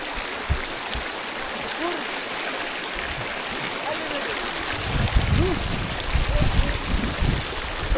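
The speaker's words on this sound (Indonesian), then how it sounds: "Saya akan menyeberangi sungai, guys." A mountain river flowing during a crossing on a hike, steady rushing water close by, with splashing steps growing louder toward the end and voices speaking briefly over it.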